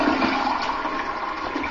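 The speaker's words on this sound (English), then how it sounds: "It's a toilet. Look at how it flushes." A toilet flushes in a loud, steady rush of water, close by and continuous, with no voices.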